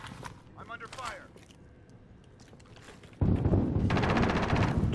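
Gunfire in a first-person shooter game on the Rebirth map: scattered shots and chatter early, then a sudden loud burst of sustained rapid firing near the end.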